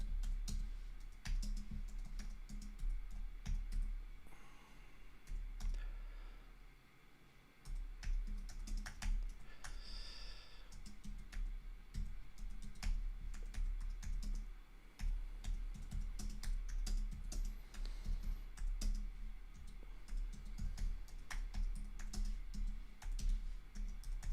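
Steady typing on a computer keyboard, close and fairly quiet, with irregular bursts of key clicks running throughout and a short pause near the middle.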